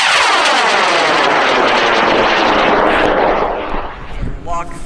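A high power rocket at a large launch event roars off the pad: an immediate loud, rushing blast that sweeps in tone as the motor climbs away, fading toward the end with distant cheering voices.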